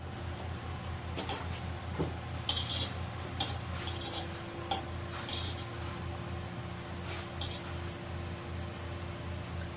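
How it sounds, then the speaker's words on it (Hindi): Metal utensils clink and tap in scattered bursts as a pressure cooker is opened in a home kitchen, over a steady low background hum. "कुकर खोल के देखते हैं हो गई होगी।"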